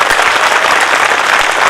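Loud, dense applause from an audience at a school Republic Day speech by the chairman of MLP Group of Schools, steady and sustained throughout with no voices above it.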